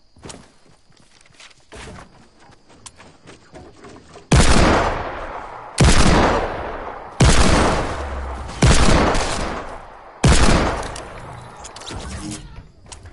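Hand cannon fire in a one-on-one video game match: five heavy, booming shots spaced about every one and a half seconds ring out loudly. Softer footsteps and clatter come before them, and no voices are heard.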